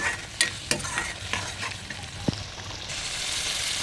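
Spice masala fries in a pan with a splash of water, a constant hiss of sizzling under several sharp scraping strokes of a spoon stirring the mixture, close and fairly loud.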